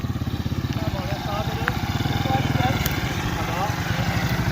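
Motorcycle engine running on a rain-damaged road, a steady close chugging putter throughout while someone talks over it.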